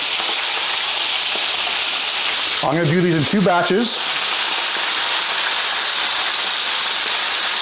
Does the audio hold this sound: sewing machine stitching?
no